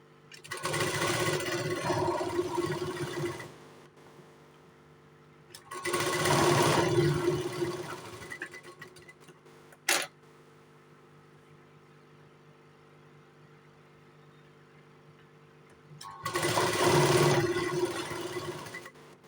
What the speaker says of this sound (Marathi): आता याला अर्धा इंच पकडून शिलाई मारूया.